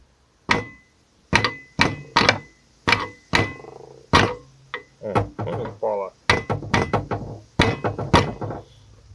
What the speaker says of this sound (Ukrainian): так я беру молоток